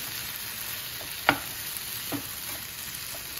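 A vada pav filling mixture is stirred in a pan, with a couple of soft scraping strokes over a steady, faint sizzling hiss, no talking.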